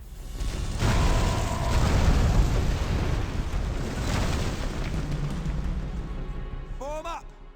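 Explosions boom through a battle in the action game Spartan: Total Warrior. Heavy blasts land in the first few seconds, followed by rumbling battle noise and a short cry near the end.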